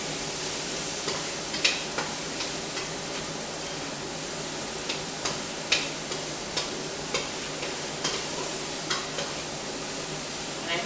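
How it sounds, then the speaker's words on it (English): Vegetables frying in a pan for spaghetti bolognese sauce, with a steady sizzle and regular scraping taps of a spoon stirring them, close and moderately quiet. "So let's stir our veg, get it nicely coated."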